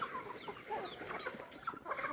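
A flock of chickens clucking and murmuring together, a busy continuous chatter of overlapping clucks at moderate distance.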